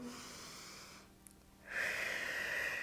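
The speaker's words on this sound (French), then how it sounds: "Encore une grande respiration." A quiet, slow breath is drawn in and then let out during a yoga exercise for digestion, soft and close, followed by a louder airy exhale.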